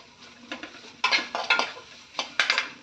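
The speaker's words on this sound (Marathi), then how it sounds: "मी आलं लसूण पेस्ट परतते" Ginger-garlic paste and onion being sautéed in a pan, with several sharp scraping clinks of a spoon against the metal over a faint sizzle, close and with no talk.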